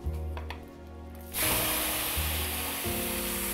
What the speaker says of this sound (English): we're gonna take the meat that we had marinating and we're gonna put it in the pan and cook it